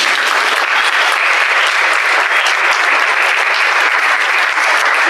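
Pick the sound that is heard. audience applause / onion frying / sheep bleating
audience applause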